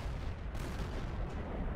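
Tank cannon shots and battle noise in a tank video game featuring a T-54, heard as a dense, steady low rumble with faint thuds throughout.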